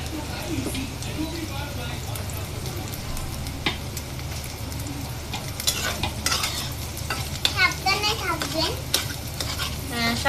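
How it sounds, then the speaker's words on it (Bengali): Eggs frying in a pan with a steady close sizzle and occasional stirring scrapes, while children's voices and other talk carry on over it. "আমার ডিমগুলো ভাজা হয়ে আসছে"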